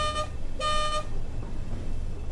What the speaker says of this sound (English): Sounds like one of those little spray can air horns.